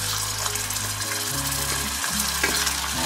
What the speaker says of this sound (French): Je vais ajouter mon beurre.